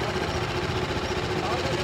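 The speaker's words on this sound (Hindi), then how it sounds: "इंजन नॉइज आप देख सकते हो," A 2023 TVS Apache RTR 310 motorcycle engine idles with a continuous, even, throbbing mechanical hum, close and steady for the whole stretch.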